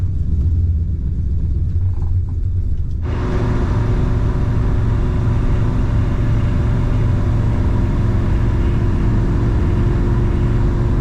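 A 1965 Plymouth Satellite cruising on the interstate at around 2,900 RPM and 70 mph, its engine and road rumble loud and steady throughout, with a sharp jump in broadband road and wind roar a few seconds in.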